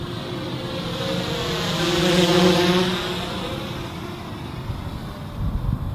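A GoPro Karma camera drone buzzes steadily with a high whine, airplane-like, swelling louder as it passes close and then easing off.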